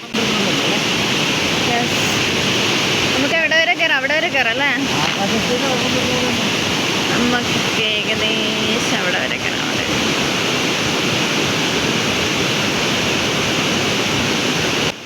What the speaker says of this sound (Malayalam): ഇവിടെ നിന്നാണ് നമ്മൾ കാപ്പിമല വാട്ടർഫാൾസ് ശരിക്കും ഒഴുകി വരുന്ന ആ ഒരു വെള്ളം ഒഴുകി പോകുന്നതാണ് ഇതിലൂടെ